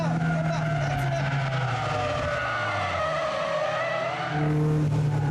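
A race car, a Logan in a motorsport event, brakes hard and skids off the road, with a loud, sustained tire squeal and engine noise that cut off and then resume briefly near the end.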